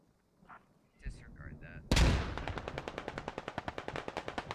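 Rapid automatic gunfire in the Squad Ops military shooter game: a loud, close burst bursts in after a few faint noises, then continues as a steady, fast stream of evenly spaced shots.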